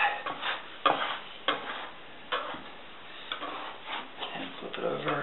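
Dough scraper loosening bread dough from the counter for French bread, making a series of short scraping, tapping strokes close by, with speech in between.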